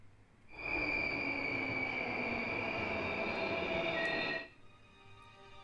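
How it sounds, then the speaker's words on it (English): A train in the video game Steins;Gate screeches into a station, its wheels squealing in a loud, sustained high-pitched whine for about four seconds before cutting off abruptly into a low rumble. "the train comes screeching to the station"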